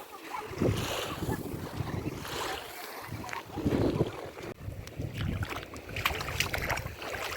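Wind gusts over a Black Sea beach in Odesa, with soft wave wash and distant beach murmur in an uneven, blustery, mid-level ambience.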